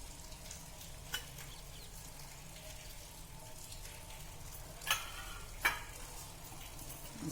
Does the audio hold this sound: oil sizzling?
yes